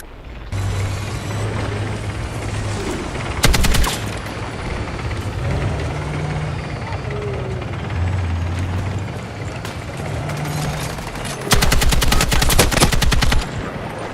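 Rapid automatic gunfire from a gun in a first-person shooter video game, a sharp burst early and a longer rattling burst near the end, loud and close over continuous battlefield and engine rumble.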